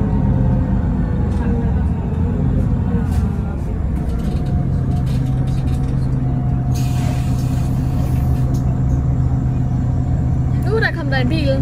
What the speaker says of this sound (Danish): Der kom der en bil.